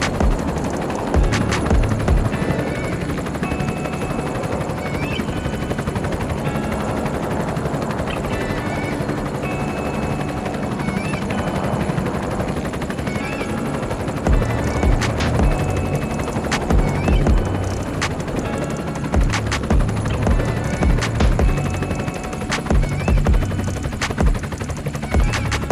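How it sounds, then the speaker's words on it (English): Loud, continuous roar of airplanes flying overhead near an airport in Inglewood, California, a dense rumbling wash with sharp crackling bursts throughout and no talking. "Kind of close to the airport, so it's a lot of airplanes flying around."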